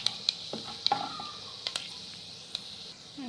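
Urad dal frying with mustard seeds in a pan for uppumavu, with quiet sizzling, a spoon stirring and scraping, and scattered sharp ticks and pops from the seeds.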